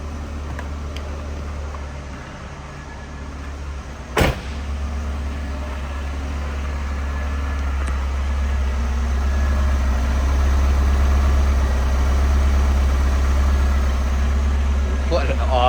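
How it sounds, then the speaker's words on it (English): A 1984 Pontiac Fiero SE Indy Pace Car with a 4-speed sits idling, its exhaust giving a steady low rumble from the tailpipes heard up close, with one sharp knock early on. "Let's get out and give a listen to those tailpipes."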